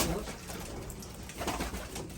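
Pigeons cooing inside a coop of flock (filo) birds, soft throaty coos layered over a steady dense murmur from many birds close by, with no talk.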